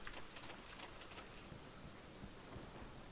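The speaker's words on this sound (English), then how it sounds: "Yeah, it's hella raining." Heavy rain pours steadily in Monster Hunter World as a thunderstorm rumbles low, a dense constant hiss of drops with a deep rolling undertone, fairly quiet and even throughout, with no talking.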